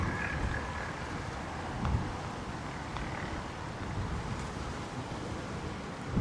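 Wind blowing outdoors across a microphone while red resin is mixed for a walking stick, a steady low rumbling rush with soft gusts, fairly loud and continuous, no talking.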